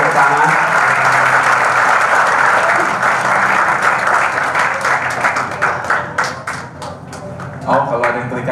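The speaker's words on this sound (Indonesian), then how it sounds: "Kita sambut Pastor Jeffrey dengan tepuk tangan." An audience gives a pastor a dense, loud round of applause as he comes to the front. The sustained wash of clapping thins after several seconds into scattered individual claps, with voices faintly mixed in.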